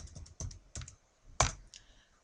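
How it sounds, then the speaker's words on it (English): Keys clatter on a computer keyboard as someone types a short word into office software: a handful of quick, close, moderately quiet clicks in an uneven rhythm, with one sharper keystroke near the end and no talking. "I'll type in Riva"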